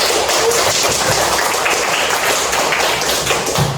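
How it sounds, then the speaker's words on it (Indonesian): Classroom applause for a student group, a dense steady clatter of many hands clapping together for about four seconds, loud and continuous with no talk over it. "Kita kasih aplaus."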